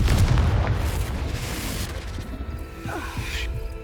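A fire-based blasting spell detonates in Hogwarts Legacy, the PC action game, giving a loud booming burst with crackling debris that fades over a few seconds.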